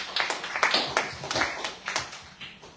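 A crowd claps for an athlete at a track meet after a sprint or 400 m race, a steady patter of hands rising and falling in small waves across a few seconds at moderate volume.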